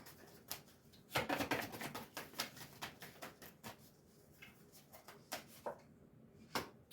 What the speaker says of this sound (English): All right, 2 more shuffles and I'll pull from the top.